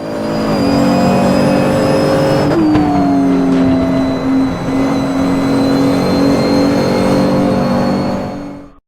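A race car engine drones loud and close on a circuit, its pitch dropping briefly then holding steady as the car carries speed through a corner, with a long, even mechanical whine throughout.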